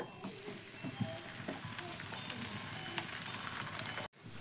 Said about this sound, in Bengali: এইভাবে উল্টে পাল্টে আমি লালচে করে ভেজে নেব পরোটা।